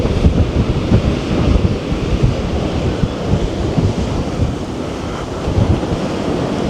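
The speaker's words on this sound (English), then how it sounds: "the sea's a little bit rough today, but it's not too bad" Rough surf rumbles and crashes continuously against the shore at West Bay, England, heavy low roar mixed with gusty wind buffeting the microphone.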